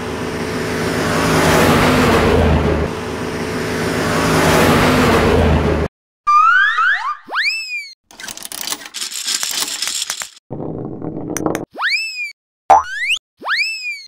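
A toy yellow school bus drives with a loud, steady engine-like rumble for about six seconds, followed by a run of springy cartoon boing effects and short bursts.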